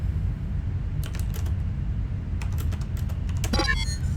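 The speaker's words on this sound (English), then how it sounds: "That'll be a lot of fast typing" Fast typing on a computer keyboard during a Duskers game session: scattered bursts of quick, light key clicks, closer and denser near the end, over a steady low background hum.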